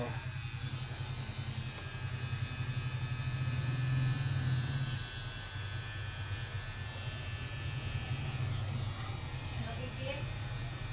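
An electric razor buzzes steadily through a barber's haircut and shave, a close continuous hum with slight shifts in pitch as it moves, while people talk over it.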